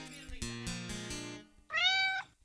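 Maya the cat gives one clear, close meow, high and rising, just after a run of heavy knocks and clinks.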